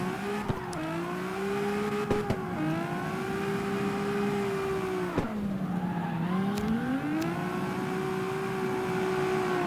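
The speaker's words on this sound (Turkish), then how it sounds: "Yapıyoruz şu an drift ha." Simulated car drifting in the CarX Street racing game, a 32R tuned for drift, its engine droning and revving with steady, loud tire skid squeal running continuously and dipping briefly as the car changes angle.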